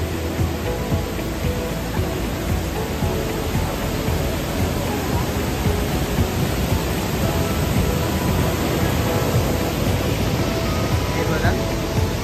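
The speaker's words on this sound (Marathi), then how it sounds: "तुम्ही पाणी बघू शकता, वॉटरफॉल हे धबधब्याचं पाणी बघू शकता" Water pouring down a waterfall near the sea on a windy day, a dense continuous roar heard close and steady throughout, with a voice speaking over it.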